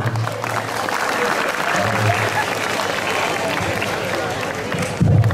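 Applause at a school Islamic New Year gathering at SMA Negeri 4 Bojonegoro, a loud, sustained crowd of hands clapping with voices murmuring underneath and a brief louder burst near the end.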